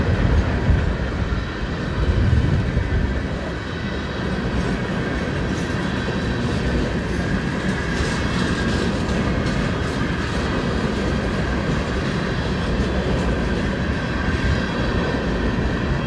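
Freight train, most likely a coal train, rolling past steadily for the whole stretch with a continuous rumble and wheel noise on a cold day near Plattsmouth, Nebraska.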